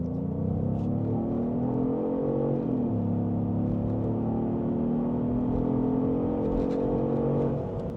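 A Genesis GV70 3.5T Sport facelift revs and accelerates, its engine and exhaust droning loud and steady with a brief dip in pitch midway, like a gearshift, then climbing again.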